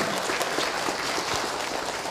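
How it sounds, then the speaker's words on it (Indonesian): An audience at a religious lecture applauds, a dense continuous wash of clapping heard alone and fairly even in loudness. "Masya Allah, tepuk tangan dong"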